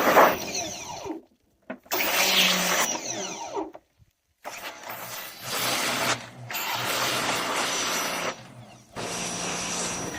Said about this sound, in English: It's great for scraping boards like this.